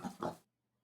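A pig makes two quick, rough oinking grunts in rapid succession, close by, and then falls quiet.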